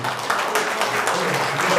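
Congregation applauding in a Pentecostal Methodist church, a dense, steady wash of clapping hands from many people, loud and close throughout.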